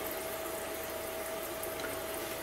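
Steady flushing rush of water through a DIY reverse osmosis machine, a constant even hiss with a faint tonal hum running underneath, continuous and unchanging with no speech.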